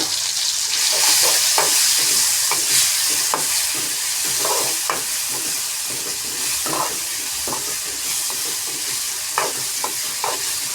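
A ground paste of green chilli, coriander and garlic fries with tomato in a pan, giving a continuous loud sizzle broken by repeated short spits and scrapes of stirring, with no voices.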